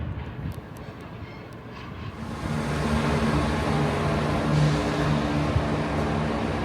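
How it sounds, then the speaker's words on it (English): A passenger train on the line through Kenilworth pulls away toward London Marylebone, a rising rumble and steady low drone with tonal hum building after a couple of seconds and holding fairly loud and close. "So that train is heading out to London Marylebone"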